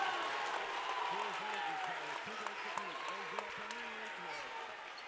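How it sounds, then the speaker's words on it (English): The home crowd at a boys' high school basketball game between the West Warwick Wizards and Westerly Bulldogs keeps up a steady, distant roar with scattered applause, while an announcer talks over it. "The home crowd is roaring."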